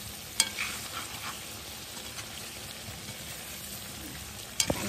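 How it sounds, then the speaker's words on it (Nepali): Garlic ground in a mixer cooks in a pan for a buff meat pickle, giving a quiet, steady sizzle with soft stirring scrapes and a couple of sharp clinks near the start and end. "मैले मिक्सरमा पिलेको लसुन उसिन्दैछ"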